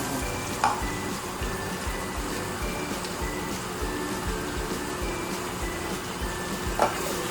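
Ginger frying in hot oil, a steady close sizzle with crackling pops throughout, occasional faint clinks of a utensil, and no talk.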